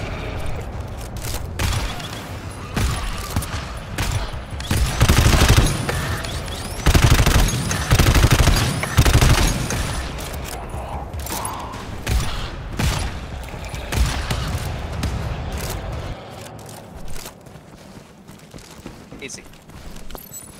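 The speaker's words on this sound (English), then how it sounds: "I'm gonna shoot them once in the head." Gunfire in the co-op shooter GTFO as players shoot enemies: sharp shots and rapid volleys burst out in clusters, loud and close, broken by pauses while several players talk over the action.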